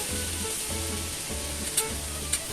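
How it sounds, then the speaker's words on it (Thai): Boneless chicken thigh sizzles skin-side down in a hot pan, a loud steady hiss and crackle with a few brighter pops, close and without talk. "เราก็จีเอาด้านหนังลงก่อนนะครับ"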